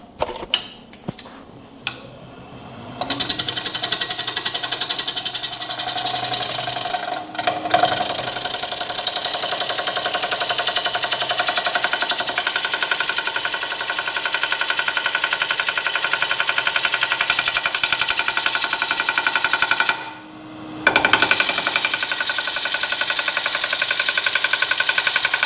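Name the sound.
bowl gouge turning a bowl on a lathe, tapping from a glued crack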